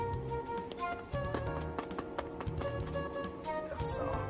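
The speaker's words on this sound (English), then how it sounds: "That's the sound of a good crust." Tapping on the crisp crust of a wild mushroom pizza topped with onions, mushrooms in wine reduction and rosemary, giving a fast run of dry, crackly taps close up, with no talk.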